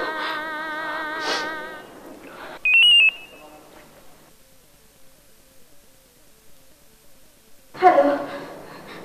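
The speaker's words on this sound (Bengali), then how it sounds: "ফোনটা ধরো" A telephone rings during an emotional Bangla TV drama scene: a short, bright electronic ring cuts in after voices, followed by a faint steady tone, then loud voices return.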